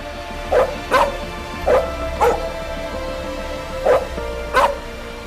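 Police dog barking in five or six sharp, evenly spaced woofs, loud and close over a low background hum, with no talking.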